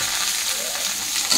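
Boiled kham alu (yam) potatoes go into a pan of onions and green chillies frying in oil, giving a steady, close sizzle that holds evenly throughout.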